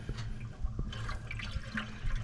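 Water coolant gurgling and bubbling as it is poured into the radiator of an old 1968 Ford truck, a continuous close liquid churning with small splashes and glugs, no talking.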